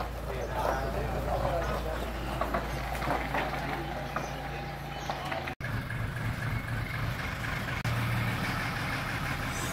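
A container delivery truck rumbling as it pulls away, its low engine drone steady and fairly close, with faint background clatter and a brief dropout midway before the rumble resumes.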